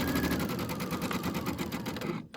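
A sewing machine runs continuously while stitching a small mini quilt, producing a close, fast, evenly pulsing mechanical whir that stops abruptly near the end, with no talking.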